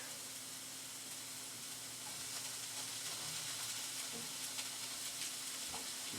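Bell pepper pieces sizzle and fry in a pan, a soft steady crackle with faint hiss and occasional light stirring scrapes, fairly quiet and close, with no talking.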